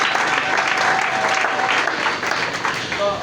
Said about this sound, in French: Est-ce que tu peux acclamer pour Dieu?